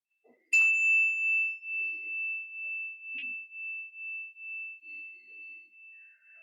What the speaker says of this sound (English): We will begin and end the meditation with a bell.